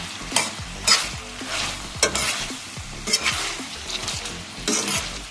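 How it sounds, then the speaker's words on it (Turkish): Chunks of meat fry with small shallots in a pan for Turkish kavurma, giving a constant close sizzle punctuated by rhythmic bursts of scraping and clatter as the mixture is stirred about every second. "Bir karıştıralım."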